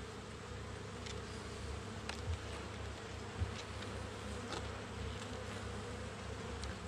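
Honeybees buzz continuously around an open hive during an inspection, a close, steady hum with a few individual bees flying past the microphone.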